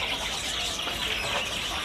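A cucak ranting songbird calls among the steady chatter of other birds at a bird shop kiosk, its chirps faint in a dense, continuous wash of birdsong.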